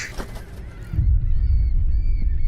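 A crow in the horror video game The Light Keeper, set at a haunted lighthouse, gives a loud harsh honking caw close by, following a fainter, thinner call.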